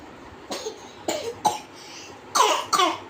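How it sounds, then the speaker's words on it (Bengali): A young child coughs indoors: about five short, close, moderately loud coughs in uneven bursts, the last two harsher and closer together, with no talking. "কাশি হচ্ছে কেন?"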